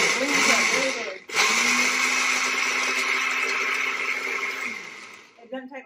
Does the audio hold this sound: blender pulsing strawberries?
yes